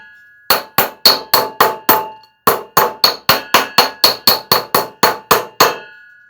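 Loud, sharp blows from a quality hammer under a hard-hitting test ring out in quick succession, about twenty strikes in two rapid runs split by a short gap, each with a bright metallic ring.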